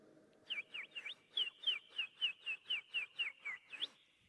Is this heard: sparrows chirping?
yes